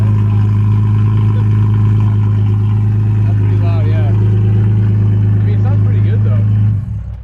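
A catless BMW E46 M3 straight-six runs with no exhaust fitted, a loud, steady, close engine drone that holds for about seven seconds before cutting off, with people talking over it.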